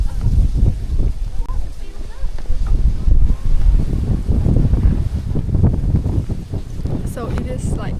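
Strong wind buffets the microphone at a mountain viewpoint on the Kew Mae Pan nature trail, Doi Inthanon, a steady loud low roar throughout with brief talk mixed in.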